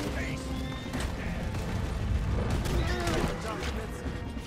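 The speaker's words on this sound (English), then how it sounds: "Oh god, they killed the horse." In the Red Dead Redemption 2 video game, a horse whinnies as it is killed amid gunfire and crashing, a strained neigh over dense game noise, with someone talking throughout.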